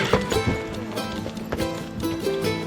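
Horses' hooves clip-clop over slippery snow on a ski trip, a steady run of hoof strikes close by, mixed with movement noise and faint voices.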